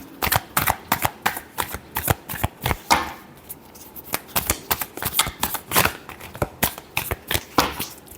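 Tarot cards being shuffled by hand in a steady run of crisp, close riffling flicks and slaps that continue for several seconds, with no talking.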